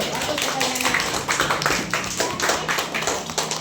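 Schoolchildren in a classroom clap their hands together in a ragged burst of roughly steady claps, close and fairly loud, with voices talking over the clapping.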